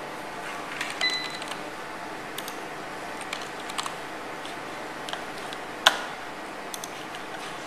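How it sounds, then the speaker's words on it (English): Fingers tap at a computer keyboard while entering data into a program at a glasses-making workshop, a sparse, irregular series of light clicks with one sharper tap over a quiet, steady room hum. "we type the information onto the computer program"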